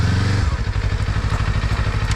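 A Kawasaki KLE 500 motorcycle rides over rough off-road dirt, its engine droning steadily and loudly up close with a rhythmic pulsing beat, while thumps and rattles from the bumpy ground clatter over it.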